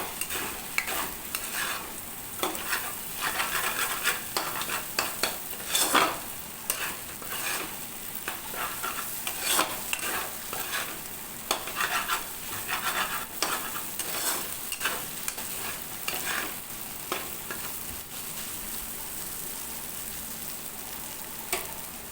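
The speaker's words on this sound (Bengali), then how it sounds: "তারপরে সমস্ত ডিমটা দিয়ে ম্যাগিটাকে ভালো করে নাড়াচাড়া করে নেব।" Maggi noodles being stirred with fried egg in a hot pan, a constant close sizzle broken by repeated scraping and tossing strokes of the spatula throughout.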